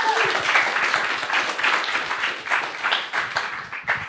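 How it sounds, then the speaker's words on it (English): Audience applause at an evening film talk and discussion about The Crazies (2010), a steady wash of many hands clapping that holds fairly even for about four seconds, with faint voices mixed in. "Can we get a round of applause?"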